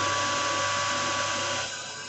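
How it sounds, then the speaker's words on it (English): A drill powers on and runs forward into a machined cylinder head, making a steady, loud whine with tonal hum that eases slightly near the end, with no voices. "Powering on, and you're drilling forward."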